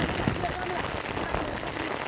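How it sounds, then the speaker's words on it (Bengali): Steady, dense hiss of heavy rain pouring onto a pond stocked with fish such as koi, taki and shing, continuous and fairly loud throughout with faint splashes mixed in. "অনেক বৃষ্টি"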